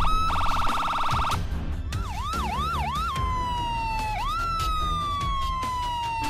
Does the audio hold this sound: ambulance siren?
yes